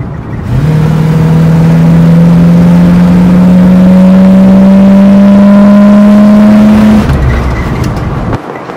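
A cammed, bored 1985 Chevrolet K5 Blazer with a 350 V8 roars loud and close, its engine note climbing steadily as it accelerates for about six seconds before the throttle lifts.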